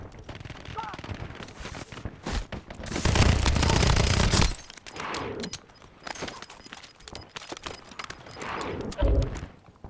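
Gunfire in the Call of Duty Warzone video game comes in bursts of rapid automatic shots, with a long loud stretch in the middle and other clattering shots and effects around it.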